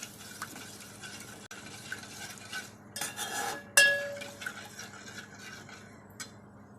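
A utensil stirs milk into a spinach pasta sauce in a pan, with soft scraping and liquid swirling, a louder clatter midway and quiet gaps between, heard up close.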